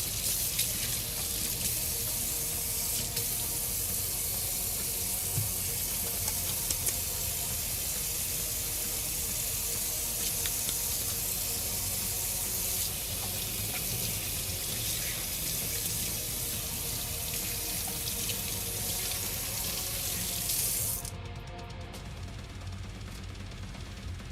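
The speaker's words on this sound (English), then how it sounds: "Maybe washing my hands a little bit." A kitchen sink tap runs steadily for about twenty seconds as hands are rinsed after shaping pizza dough, a continuous close splashing hiss that drops away near the end when the water shuts off.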